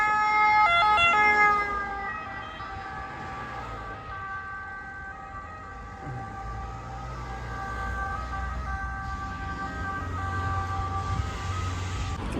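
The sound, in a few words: ambulance siren passing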